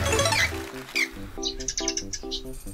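Small pet parakeets chirp indoors in a run of quick, bright chirps and tweets, close by and fairly loud, with no voices over them.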